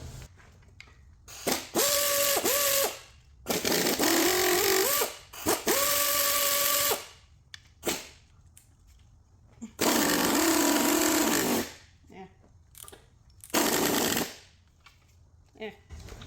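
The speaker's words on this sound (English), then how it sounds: "I'm gonna go ahead and loosen all these cutter bolts." A cordless DeWalt impact wrench loosens cutter bolts on a 2008 Saturn Aura 3.5L. It runs in several loud, whirring, rattling bursts of a second or two, separated by quieter gaps.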